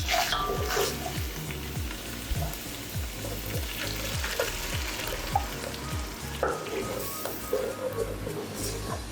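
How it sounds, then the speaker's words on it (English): Tilapia is frying in a pot of oil for Ghanaian akpa detsi soup from the Volta Region. A steady, close sizzle runs throughout, broken by repeated scraping stir strokes at an uneven rhythm. "So this will fry for say 2 minutes."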